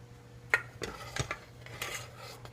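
Coffee beans are stirred into melting wax in a double boiler, heard as intermittent close metal clinks and scrapes of a utensil against the pot, with quiet stretches between the strokes.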